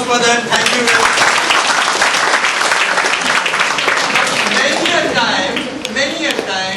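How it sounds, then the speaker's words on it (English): A seminar audience in Mumbai gives a round of applause, loud, dense clapping from many people filling the room and easing off toward the end, with a voice speaking briefly over it. "round of applause for them"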